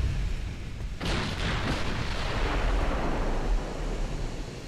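In the Ultimate Admiral Dreadnoughts video game, a battleship's quad guns fire in a deep, heavy boom, followed by a broad rumbling roar. The blast sounds fairly close and dominant, with no talking.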